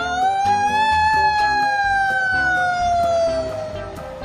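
A toy fire truck's electronic siren wails loud and close, its tone rising then slowly falling, with small clicks and rattles of the plastic toy underneath and no speech.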